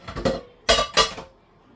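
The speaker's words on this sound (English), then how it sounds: "now we're covering our beans and then we're letting it cook for another 5 minutes" A lid going onto a pot of cooking beans and corn: a few quick metallic clanks and clinks in short bursts, close and fairly loud, then quiet.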